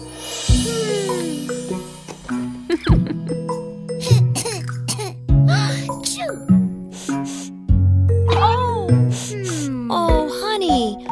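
A cartoon child coughs repeatedly in short harsh bursts over a musical backing from a children's song about catching the sniffles, with brief vocal sounds between the coughs.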